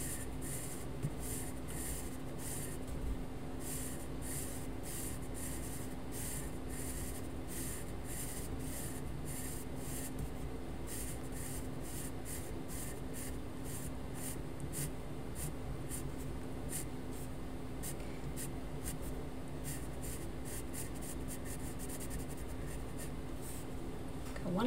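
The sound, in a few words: pencil shading on taped-down paper with medium pressure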